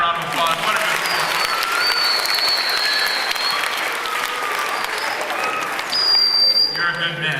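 Steady, loud audience applause at an evening emceed event, continuing without a break, with cheers and whistles rising over the clapping near the end.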